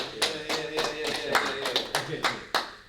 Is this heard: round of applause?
yes